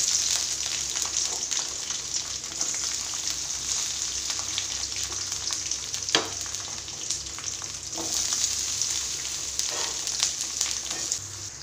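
Onions frying in hot oil in a pan for a Tamil bitter gourd tamarind curry (pavakkai puli kulambu), a steady close sizzle with occasional stirring scrapes running throughout, no talking.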